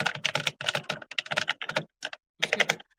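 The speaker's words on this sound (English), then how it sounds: "Oh, he's typing vigorously. Do you hear him?" Vigorous typing on a computer keyboard: rapid, close clusters of key clicks in uneven bursts with brief pauses, clear and alone.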